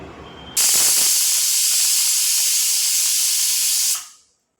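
A kitchen pressure cooker on the stove, cooking moong dal and sago payasam, lets out a loud, steady steam hiss that starts suddenly, holds for over three seconds, then cuts off sharply into silence.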